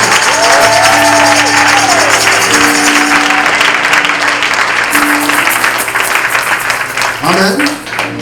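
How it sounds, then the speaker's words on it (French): A church congregation applauds and cheers loudly during a sermon, a dense, continuous wash of clapping with voices shouting over it and the noise easing slightly toward the end. "Donnez encore une bonne belle acclamation."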